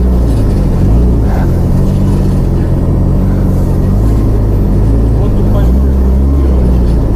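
A car rolls along on wheels studded with about 3000 nails instead of tyres, a loud, rough, constant rumbling drone with low engine tones, while people talk and cheer over it.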